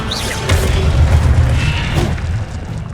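A fiery Incendio spell blast in Hogwarts Legacy, a loud sustained roaring burst with rumbling low end that swells and slowly fades, heard alone without talk.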